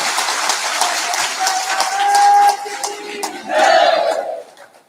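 Audience from Rajasthan at a spiritual talk cheering and clapping loudly, with two big surging bursts of shouting before tapering off.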